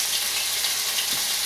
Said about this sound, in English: And you could hear them frying in there.